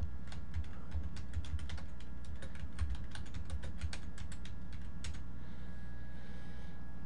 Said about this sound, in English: hit the enter key on the keyboard